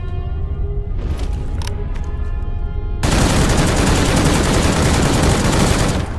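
A 7.62 gun fires in the GAMMA video game, with sparse shots and ringing tones at first, then a loud, continuous stream of automatic fire that stops abruptly near the end.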